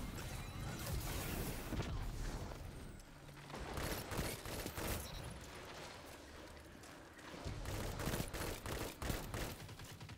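Claws of the Wolf pulse rifle firing in a video game: loud, rapid bursts of gunfire in repeated volleys, nearly continuous with brief pauses between strings of shots.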